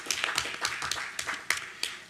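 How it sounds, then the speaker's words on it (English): A round of applause at a school board meeting for award recipients, a small group clapping at a moderate distance with uneven, scattered claps. "another round of applause for all of these well-deserving recipients"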